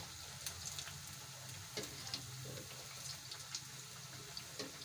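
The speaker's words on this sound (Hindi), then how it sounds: "ये देखिए माशाल्लाह से फ्राई हो रहे हैं" Chicken lacha pakora frying in oil, a quiet steady sizzle with soft crackles and a few small pops scattered throughout.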